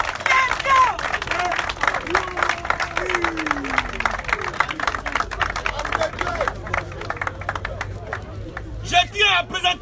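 A church congregation applauds and acclaims Jesus, steady dense clapping from a crowd with cheering and chatter mixed in, continuing loudly throughout.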